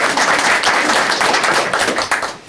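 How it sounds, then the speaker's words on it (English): An audience clapping at a Pacifica School District board meeting, a dense, fairly loud burst of many hands that holds steady before thinning and tapering off near the end. "Let's clap."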